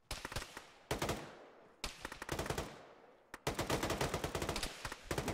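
Computer-controlled soldiers fire rapid machine-gun bursts in a tactical military shooter game, with long loud volleys that repeat back to back, close and dense, broken only by brief pauses.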